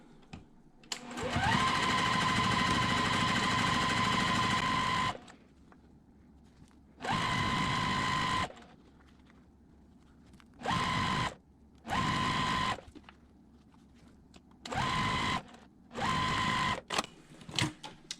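A sewing machine stitches quilt block subunits in a series of separate bursts: one long run, then several shorter ones with quiet pauses between, each a steady close whir.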